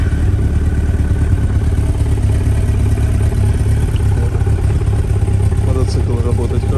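A Yamaha FZS 1000 motorcycle engine runs on choke just after starting, a steady loud close mechanical rumble with fast rhythmic pulsing and light clatter, continuous throughout.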